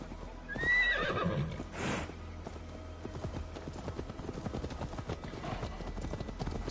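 In Assassin's Creed Valhalla, a horse gives a high whinny near the start, followed by a steady patter of trotting hooves, with game ambience underneath.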